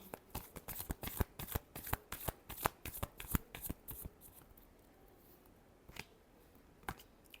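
Tarot cards are shuffled in a quick run of about a dozen crisp, close riffles, then a few scattered taps and flicks follow in a quiet room.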